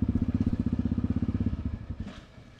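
A new Yamaha motorcycle's engine stumbles through rapid, loud putters that slow and fade until it stalls out, close by with no voices.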